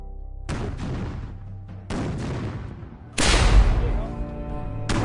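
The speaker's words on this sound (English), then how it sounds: "increases the cannon barrage" Cannon barrage in a Revolutionary War battle: three heavy artillery blasts boom in succession, each followed by a rumbling decay, with the last nearest and loudest.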